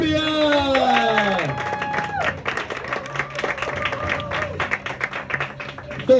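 A crowd at an improvised-verse competition breaks into applause, scattered claps building into a steady patter behind a voice that speaks at the start, then thinning out toward the end.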